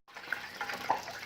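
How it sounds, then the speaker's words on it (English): Hot deep-fryer grease sizzles steadily as water drips off chicken into it, a soft continuous crackle with small pops, close and moderate in level, with no voices. "you can hear a little bit of water dripping off from that chicken in there"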